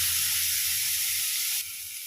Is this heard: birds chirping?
no